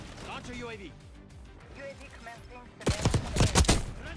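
A gun fires in Black Ops 6, a sharp, loud burst of several close shots arriving near the end after a stretch of quieter game sound and talking.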